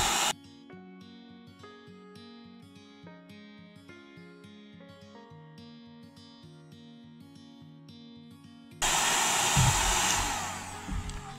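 A heat gun or hair dryer heating the cover of a Gone With The Wind snow globe being repaired, a steady loud blowing whoosh that kicks in after several seconds of music-box melody.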